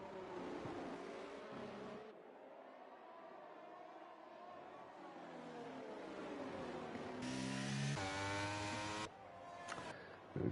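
A race car in a racing video game whizzes past with a rising and falling engine whine, then loud revving. It stays steady and close throughout.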